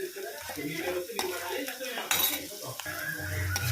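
Peanuts fry in a pan for lemon rice (pulihora), a utensil clattering and scraping against the metal while a light sizzle continues underneath, close by.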